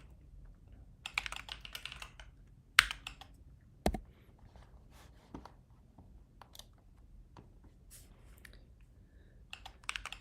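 Keys clatter on a new computer keyboard in quiet, irregular bursts, with a few sharper isolated clicks between short runs of typing.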